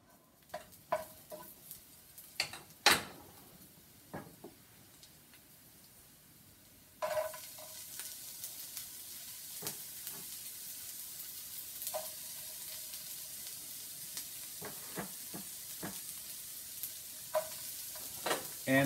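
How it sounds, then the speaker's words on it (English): Vegetables for a veggie meatloaf sizzle and crackle in a hot frying pan, a steady frying hiss with sharp pops and clatters, louder after a few seconds as more food hits the pan. "let's get these veggies into the frying pan"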